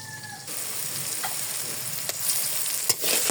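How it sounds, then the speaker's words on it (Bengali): Onion, chili and salt hit hot oil in a pan with a sudden loud sizzle that settles into steady close frying, with a few clinks of a stirring spoon. "তেল দিয়ে দিয়েছি, এখন মরিচ লবণ দিয়ে দেবো, পেঁয়াজ দিয়ে দেবো 1 কাপ"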